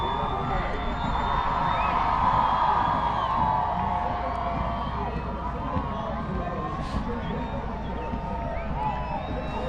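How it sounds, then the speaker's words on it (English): A huge crowd lines the street at a holiday parade, cheering and whooping in a dense, continuous roar, with speech mixed into the noise. "Definitely a huge crowd."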